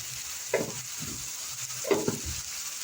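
Onions frying in a pan seasoned with black pepper and salt give a soft, steady sizzle, with a couple of brief stirring scrapes near the start and middle.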